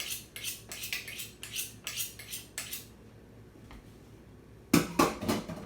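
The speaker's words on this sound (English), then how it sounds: "we're going to take our knife and we're going to get it nice and sharp" A kitchen knife being sharpened with a quick series of about nine rhythmic scraping strokes close up, a pause, then a few more louder scrapes at the end.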